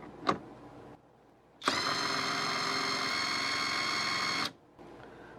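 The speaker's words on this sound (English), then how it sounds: "Now let's check each one of these impact wrenches for RPM. We have first the Robustrue in low speed." A Robustrue RT1000B 1/2-inch impact wrench spins freely at its low speed setting, a loud steady whirring drone of about three seconds with sharp start and stop, preceded by a brief click.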